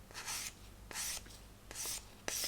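A plastic part from a 1/200 Trumpeter Scharnhorst model kit sanded with 600-grit paper, heard as four separate bursts of close, dry rubbing with short pauses between them, and no talking.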